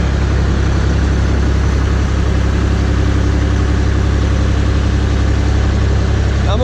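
A Vermeer CTX 100 mini skid steer engine runs at idle close by while its boom is raised, a loud steady low diesel drone with a constant throb throughout.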